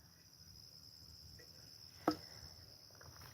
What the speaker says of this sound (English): A whole symphony of crickets on my right.